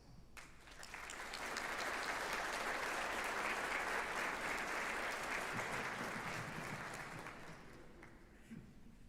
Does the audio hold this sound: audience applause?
yes